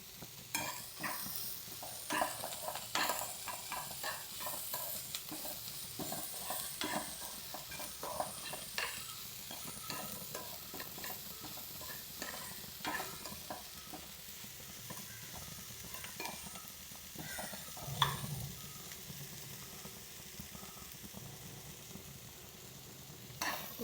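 Sliced onions and prawns fry and sizzle in a pan, with repeated scraping strokes of a spoon stirring them and occasional clinks against the pan, close and fairly quiet, with no talking.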